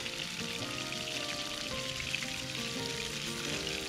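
Red morwong fillet frying in a pan, a dense, steady crackling sizzle like light rain that holds at one level for the whole stretch, close and fairly loud with no voices.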